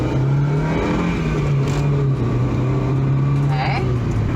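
A 24-year-old Honda Civic drives along with a steady engine drone that holds a fairly even pitch and rises briefly near the end, heard from inside the car, loud and constant.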